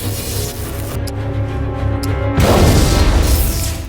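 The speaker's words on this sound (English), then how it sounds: "the PhD locked himself inside his lab and detonated explosives" A heavy explosion tears through a lab in the Russian superhero film The Guardians, a loud broadband blast that bursts in suddenly after a tense, rumbling musical buildup and then roars on with debris-like noise.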